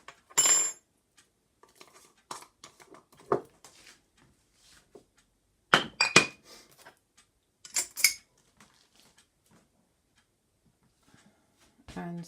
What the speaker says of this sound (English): I'm going to add some coffee like so. Never need more than 1 spoonful.